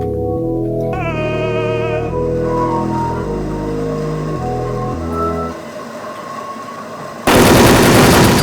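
Gunfire in the online shooter Wolfteam, heard under loud game music, ending in a sudden harsh burst of shots near the end.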